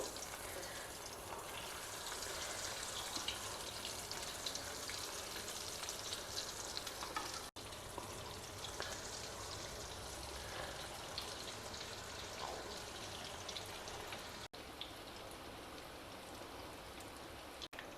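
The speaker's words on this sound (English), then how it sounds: "We will fry it, heat the oil well, then reduce the flame and add the pieces into it gradually." Kothimbir vadi pieces fry in hot oil in a pan over a reduced flame, giving a steady, dense sizzle and crackle that runs unbroken and fairly close, with no voices.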